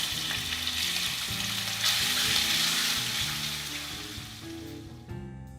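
Bacon frying in hot oil with rosemary and turmeric, a loud continuous sizzle and crackle with stirring, over faint background music that fades toward the end.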